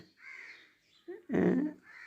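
A crow caws at a spot where rice is set out for birds, with faint chirps early on and then one loud, harsh, close caw near the end.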